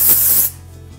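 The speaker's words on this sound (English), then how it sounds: "Finish it off with a little hairspray." Hairspray hisses from a can onto a finished hairstyle in one short, bright burst that cuts off abruptly, leaving near silence.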